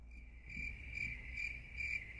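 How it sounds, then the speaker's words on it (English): Crickets chirp steadily as an inserted sound effect, a sustained high trill pulsing in regular bursts about every half second, quiet and continuous with no talking. "I really want crickets chirping in there."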